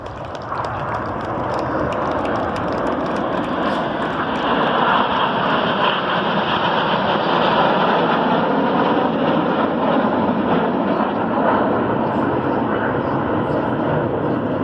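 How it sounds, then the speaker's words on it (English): Red Arrows jets flying a formation display over Gdynia, a steady loud roar of jet engines sustained throughout with a slight swell midway, with a commentator's voice running over it. "Red 1 about to bank the aircraft to the left, changing smoke colour as they go"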